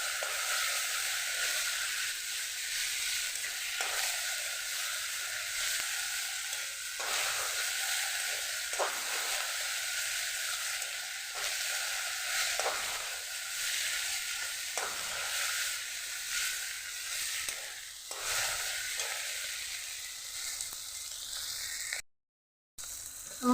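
Spice masala sizzling steadily in a pan while being stirred and sautéed for a fish and potato curry, with scraping strokes breaking up a continuous close fry, and a brief gap near the end.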